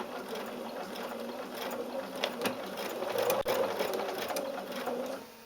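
Sewing machine stitching fabric for a face mask, a close, steady mechanical whirring rattle of the needle that builds slightly then stops abruptly, no talking.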